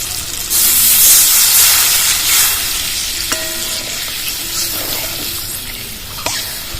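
Water poured into a pan of hot oil and cooked-down spices gives a loud burst of sizzling and steam, which eases into a steady bubbling hiss with a few stirring scrapes.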